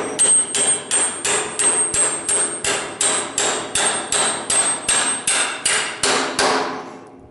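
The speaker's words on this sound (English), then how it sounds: "Running the hammer with my left hand." About fifteen steady, evenly spaced hammer blows ring out close by as someone hammers left-handed on a farm bale wagon, each strike sharp and metallic, with no talking.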